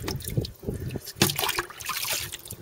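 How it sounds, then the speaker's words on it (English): An aquaponics filter being squeezed out by hand in dirty barrel water, giving close, gurgling splashes and trickles that come in uneven surges. "I'm just gonna squeeze it. Just get all the stuff out of the filter."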